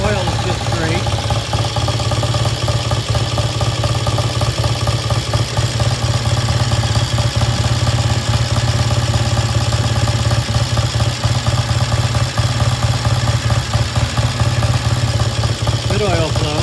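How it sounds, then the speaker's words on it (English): A vintage British motorcycle engine idles steadily and close by, a continuous even throb with a fine mechanical clatter that holds at the same loudness throughout. "Good steady idle. Comes off idle nicely."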